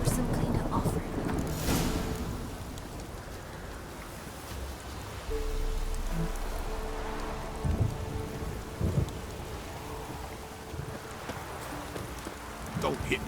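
Steady soft rain patters in the Witcher 3 video game world, a faint continuous hiss with low rumbles, while characters talk over it.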